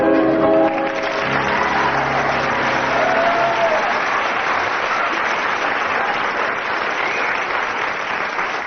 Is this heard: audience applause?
yes